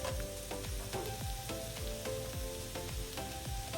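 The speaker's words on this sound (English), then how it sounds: "We're gonna do a little bit of oil and butter, and then pop them in the pan." Mushrooms frying in oil and butter in a hot pan, a steady close sizzle and crackle with soft periodic stirring thumps underneath.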